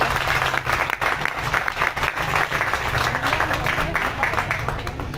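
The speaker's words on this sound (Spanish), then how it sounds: "Démosle una bienvenida con un caluroso y fraterno aplauso." An audience at a book presentation applauds to welcome a presenter. The clapping is dense and sustained for several seconds, and a voice briefly shows through it.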